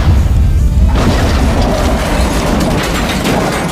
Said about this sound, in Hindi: मैं अपने रॉकेट लॉन्चर को लोड करता हूँ और सीधा उन ऑल्टोस की तरफ फायर कर देता हूँ, जिसके बाद देखने को मिलता है धमाके